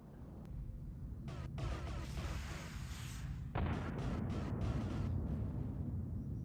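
A nuclear weapon fires and detonates in the Stargate Empire at War space strategy game, a sustained loud rumbling blast with a heavier surge partway through that keeps roaring to the end.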